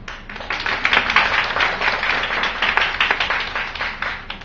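An audience claps together in warm, steady applause for about four seconds, evenly dense with light swells and no voices over it.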